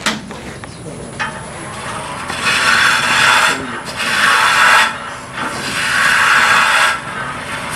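Skew chisel cutting wood on a lathe, sounding as repeated rasping, hissing cuts in long sweeps separated by short pauses, close and fairly loud.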